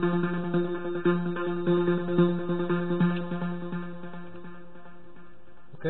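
A polysynth plays a stabby MIDI line of short repeated chordal notes in a steady rhythm. The notes ring with bright harmonics and fade toward the end.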